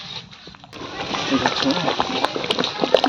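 Thick tomato and chilli sauce bubbling and popping vigorously in a pot, a rising, irregular burble of bursting bubbles heard up close.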